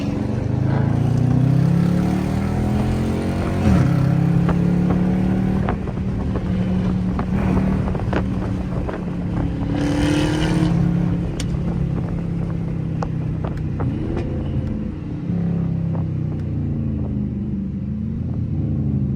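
An 800-horsepower widebody Dodge Charger Hellcat V8 drones and rumbles from inside the cabin while driving at sunset, with shifting pitch, wind noise and occasional clicks, no talking.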